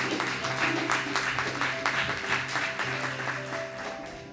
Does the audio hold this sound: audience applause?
yes